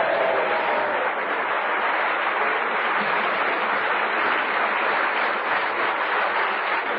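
On a radio panel game show, a studio audience gives a steady, even round of applause, continuous and fairly loud with a muffled, narrowband broadcast quality.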